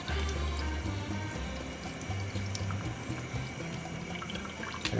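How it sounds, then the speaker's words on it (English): Tap water runs steadily into a sink as raw shrimp are rinsed, a continuous splashing flow at close range with no talking. "We're gonna rinse it out as always."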